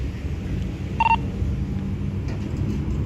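A single short electronic keypad tone from a phone being dialed during a roadside encounter with Navy police, heard once over a steady low rumble.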